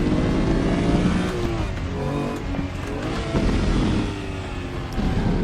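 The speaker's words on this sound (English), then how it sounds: "Oh, the tyres when you lock the brakes" Car tyres squeal under locked braking in the RaceRoom racing game, heard over a steady, loud engine drone with shifting revs through the stretch, no voices.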